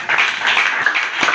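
A church congregation clapping during a sermon, a dense burst of many hands close by and fairly loud, lasting only a moment.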